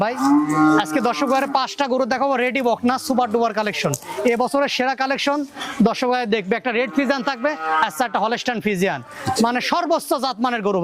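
Friesian heifers moo loudly and almost continuously, several animals overlapping, with a voice talking among them.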